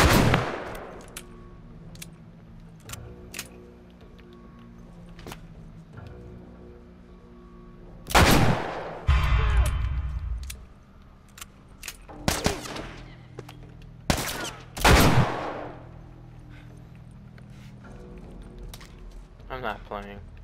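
Sharp, loud gunshots in The Last of Us Remastered crack out as scattered single shots and a few heavy blasts across a quieter game background, spaced irregularly through the stretch.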